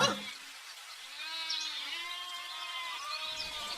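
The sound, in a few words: goat bleating in a cartoon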